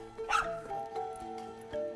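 Neighbouring dogs bark and yip sharply near a very large Caucasian Ovcharka, a short excited burst of a few barks heard at a moderate distance against a quiet background.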